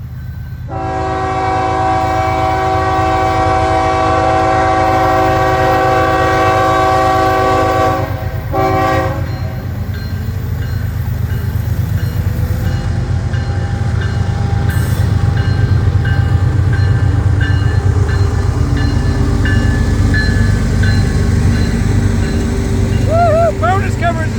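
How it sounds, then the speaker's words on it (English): A loud, long FEC freight train rumbles steadily past nearby while its horn sounds a long blast, followed by continuous rolling and clattering of wagons. "Big, long, beautiful train."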